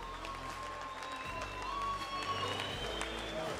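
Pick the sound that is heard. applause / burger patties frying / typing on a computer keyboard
applause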